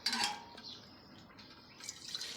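Water poured to fill a kalash pot during a Molakat vrat ritual, a faint liquid splash at the start, then a soft trickle that swells again near the end.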